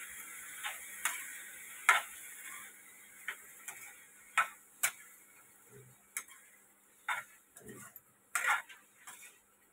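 A utensil stirs brinjal curry in a pan, giving light scraping taps and clinks at an irregular pace, close and fairly quiet with no talking.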